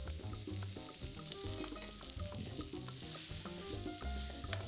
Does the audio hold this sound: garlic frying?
yes